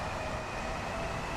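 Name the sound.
Gatwick Express train in video game Train Sim World 2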